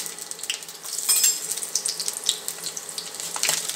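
Garlic sizzles in hot oil in a pan while cooking vatha kuzhambu, a crackly, spitting hiss with scattered sharp pops and bursts across a few seconds, no voices.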